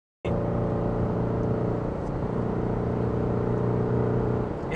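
A modified car's engine starts and runs at a steady, loud rumble, holding a constant tone with slight fluctuations, close to the microphone.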